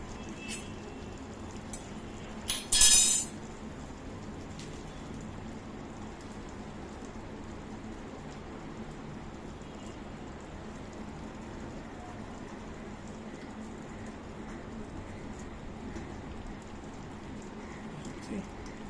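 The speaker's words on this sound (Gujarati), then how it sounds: "અને 1 મિનિટ આપણે ઢાંકી રાખશું એટલે પૂરિયા બધા સતળાઈ જાય તેલમાં." Hot oil sizzles steadily in a covered pan while mustard-seed pieces fry for a pickle recipe, a soft, even crackle like light rain with one brief louder clatter early on.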